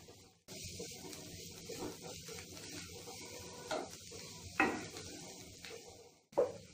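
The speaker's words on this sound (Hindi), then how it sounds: "इन सारे को डाल के 1 मिनट तक इन्हें भी भून ले रही हूँ।" Chopped vegetables for veg chowmein stir-fry over a high gas flame, with a steady low sizzle broken by the scrape and clatter of a spatula tossing them in the pan.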